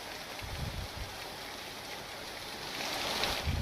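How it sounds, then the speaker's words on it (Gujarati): Heavy rain pours down in Shamlaji, Aravalli, Gujarat, in a steady, dense hiss that swells slightly toward the end, with no voices. "શામળાજીમાં ધોધમાર વરસાદ વરસ્યો।"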